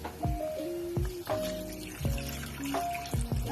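Homemade beef stock pours into a pot of vegetables in splashy, gurgling bursts, with several sharp liquid glugs and ringing tones spaced unevenly across a few seconds.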